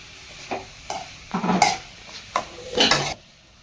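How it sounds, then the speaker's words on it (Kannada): Mushrooms sautéed in a pan with broccoli and paneer nearby: a spatula scrapes and clinks against the metal in several short separate strokes, with brief gaps between them and a faint sizzle under the strokes. "ಈಗ ನಾನು ಸ್ವಲ್ಪ ಮಶ್ರೂಮ್ ಹಾಕ್ಕೊಳ್ತಾ ಇದ್ದೀನಿ. ಇದನ್ನು ಸಾಟೆ ಮಾಡ್ಕೊಳ್ಬೇಕು."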